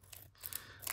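Scissors cut open a Japanese trading card pack, giving a short, quiet snip and crinkly slicing of the foil wrapper close by, with no talk.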